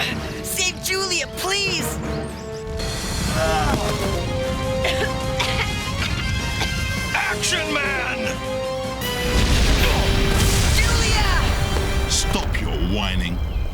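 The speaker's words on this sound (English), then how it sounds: "No one could have survived that explosion" Cartoon explosion in an animated Action Man adventure, a loud crashing burst followed by booming debris and rumble, layered under dramatic music and shouting character voices.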